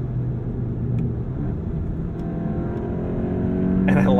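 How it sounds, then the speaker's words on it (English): A 2022 Volkswagen Golf GTI hot hatchback engine revs with a raspy, strained drone, loud and steady, rising near the end. "the sound of that engine is raspy, it's strained"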